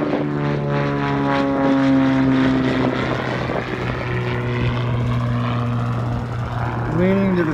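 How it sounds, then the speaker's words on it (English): A single-engine, low-wing, fixed-gear piston propeller plane roars loudly and steadily nearby on takeoff, its droning engine note holding strong throughout. "Almost sounds like a Bonanza."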